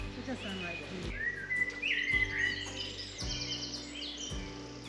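Birds chirp and sing in a mansion garden, with bright, clear calls clustered in the middle of the clip over a low, steady outdoor rumble and faint background noise.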